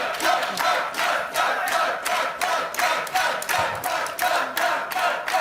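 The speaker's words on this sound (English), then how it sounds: "the G2 faithful that have been cheering very loudly for you" Esports crowd at a League of Legends LEC Winter 2023 match cheering for G2, a loud rhythmic chant of repeated shouted bursts from a large crowd.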